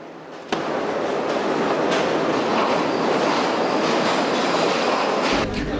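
A Sri Lanka Railways passenger train rumbles steadily along the track, loud and close, with a continuous clickety-clack roar that starts abruptly and runs without any speech.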